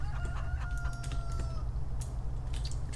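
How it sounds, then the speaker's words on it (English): A Farming Simulator 19 coop of 76 chickens and one rooster fills the scene with steady clucking and a drawn-out crow over a constant low hum, close and clear, with no voices. "And now here we got 76 chickens, one rooster."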